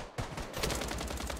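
Rapid bursts of gunfire from the video game Blood Strike crackle in a quick rhythmic rattle after a short quiet moment, fairly faint and with no voices.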